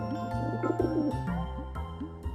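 Soft repeated pigeon coos, a throaty rolling call in short phrases, close by with no talking.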